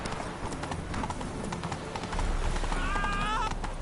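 Geralt's horse Roach galloping in The Witcher III: Wild Hunt, rapid rhythmic hoofbeats close up, with a brief whinny near the end and a voice speaking over it.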